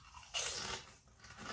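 Crisp, close crunching of ready salted potato crisps being bitten and chewed, two loud crunches in quick succession with no talking.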